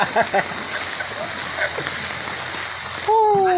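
Flood water in front of a house splashes and churns steadily, with a few brief voices near the start and a sharper tone near the end.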